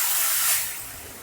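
Tomato gravy poured into a hot pan of fried potatoes and spices for dum aloo, giving a loud broadband hiss and sizzle that peaks early and then eases to a steadier, softer frying hiss.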